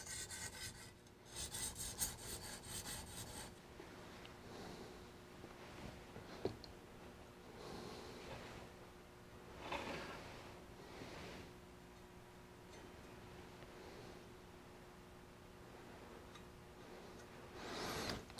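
A culinary knife is stroked back and forth across a sharpening stone during polishing, a steady wet rasping that swells and fades with each pass, close and moderate in level, with no voices.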